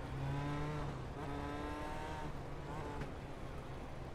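A 400-horsepower dirt midget race car in the iRacing game at Kokomo Speedway, its engine a steady loud drone with shifting pitch and tire noise, continuous throughout without pauses.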